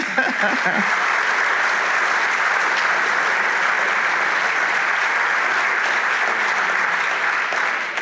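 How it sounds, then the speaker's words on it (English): A large forum audience at the USGLC Global Impact Forum 2024 applauds a panel on U.S.-Africa partnership with a big, sustained round of clapping, loud and even throughout. "let's give them a big, big round of applause"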